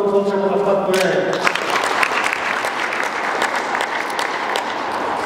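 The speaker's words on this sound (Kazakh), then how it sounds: "Олар міне ортамызға қол шапалақтап қояйық" An audience applauds at a Kazakh language-advocate award ceremony in a hall, a sustained burst of clapping rising in after a host's voice and continuing steadily.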